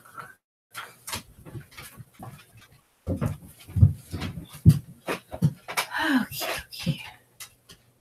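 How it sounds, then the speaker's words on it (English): Dogs make noise close by during a live stream: irregular bursts of whining, panting and short yips, with quiet gaps between them. "Always dogs barking and making noise."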